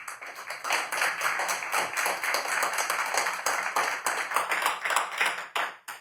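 Audience applause at a city council meeting after a vote passes, brisk continuous clapping from a modest crowd, loud and steady for about six seconds before tapering off, no voices over it.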